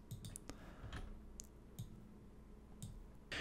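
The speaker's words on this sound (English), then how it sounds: "you can just click Press W on the keyboard to start a new label box." Hotkeys pressed on a computer keyboard while labelling training images, heard as sparse, quiet clicks and taps scattered through a faint room hum, several isolated presses with no talking.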